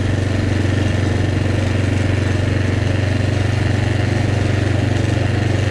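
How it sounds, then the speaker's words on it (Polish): A 1998 Yamaha Grizzly 600 4x4 ATV engine runs at high revs, a loud steady droning buzz held close and constant throughout with no talk over it. "Ale czemu on ma takie wysokie obroty?"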